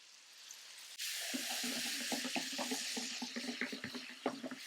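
Tamarind solution poured into a pan while making guava tamarind rice, a sudden splash turning into a steady bubbling sizzle with crackles and pops, fairly quiet and close.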